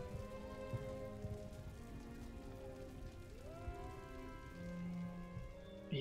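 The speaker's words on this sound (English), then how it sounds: "especially as it's raining" Steady rain patters across the battlefield in Empire: Total War, a constant soft hiss beneath faint droning game music, with no talk over it.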